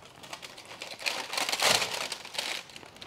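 Baking paper crinkling as a golden-brown spelt sourdough loaf is lifted gently by it, a close series of soft, irregular crackles and rustles that swell in the middle and taper off, with no voices.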